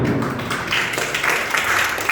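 An audience gives loud applause, a thick, continuous wash of many clapping hands that holds steady for a couple of seconds, close and full.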